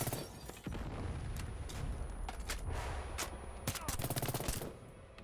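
Gunfire in a SWAT tactical shooter game, with rapid automatic bursts and single shots crackling over a dense, noisy mix, and voices talking in between.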